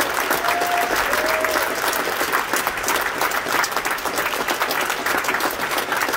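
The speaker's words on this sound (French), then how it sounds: "Applaudissez-les très très fort." Audience at a film festival closing ceremony applauding the volunteer team, dense and sustained clapping from a large crowd throughout, with a brief whistle early on.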